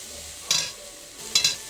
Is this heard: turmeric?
yes